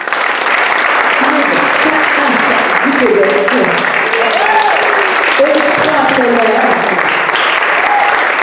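Steady audience applause fills a hall at the launch of new resources, continuous and fairly loud throughout while a French-speaking voice talks over the clapping.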